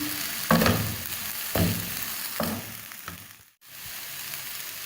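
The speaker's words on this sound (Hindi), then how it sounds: "अब मैं इसमें चिकन डाल दूंगी, उसको अच्छी तरह से इसमें मिक्स कर लूंगी।" Chicken going into a pan of lightly fried onions and being stirred, giving a continuous close sizzle with several rhythmic scraping strokes and a brief dropout near the end.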